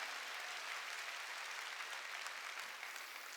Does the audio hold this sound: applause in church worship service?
yes